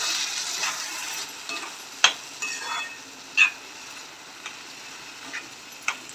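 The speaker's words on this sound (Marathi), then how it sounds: "आपण मसूर टाकून घेऊ। मसूर टाकून छान प्रकारे मिक्स करून घेऊया।" Masoor lentils are stirred into spiced oil masala, soft sizzling broken by a handful of sharp spoon clicks and scrapes against the pan, close and moderately quiet.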